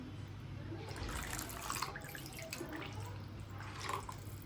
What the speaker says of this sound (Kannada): ಸೊ ಇದು ಸ್ವಲ್ಪ ಗಟ್ಟಿ ಇದೆ, ನಾನು ಹಾಗಾಗಿ ನೀರು ಸೇರಿಸ್ಕೊತೀನಿ